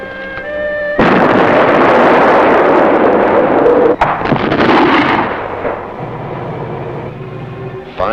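Heavy WWII-style artillery barrage in a war drama: loud, sustained booming and rumbling blasts, with a sharp crack near the middle, then a somewhat quieter rolling roar fading toward the end.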